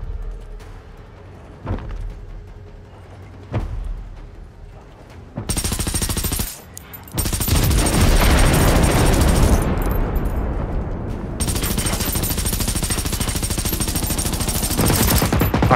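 Machine gun firing in the video game Generation Zero, starting with a few isolated shots and then long, loud, sustained automatic bursts with a brief pause between them, dense and close.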